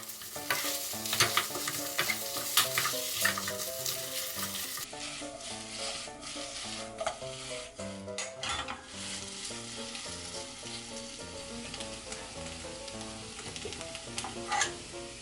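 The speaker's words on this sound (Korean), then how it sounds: "떡을 넣고 1분 정도 볶아주세요." Rice cakes for tteokbokki stir-fried in a pan, with steady sizzling and scraping stirring strokes running throughout at a fairly quiet level over faint background music.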